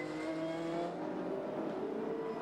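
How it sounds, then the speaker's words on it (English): Touring race cars from the 1992 Australian Touring Car Championship race at Amaroo circuit, a steady loud engine roar with revving as cars hammer around in close company, no talk over it. "that's Richards hammering around the back of Johnson there"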